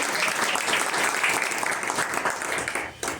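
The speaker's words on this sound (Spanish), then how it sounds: "Le damos un aplauso." Audience applause at a book presentation, a steady dense patter of many hands clapping indoors, fairly loud and continuous before tapering near the end.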